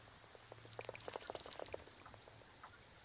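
Rain falling during a wedding in The Sims 4 game, a quiet patter of scattered droplets tapping a surface over a soft hiss, irregular and faint, with no voices.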